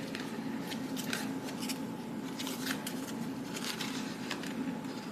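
Scissors cutting paper inserts for a small 6x6 mini album, a steady run of soft, repeated snipping strokes over a constant low hum.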